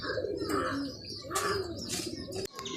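Pigeon squabs begging for feed in a breeding loft, giving soft repeated cooing and squeaky chirps with a brief flutter of wings, close by and fairly quiet.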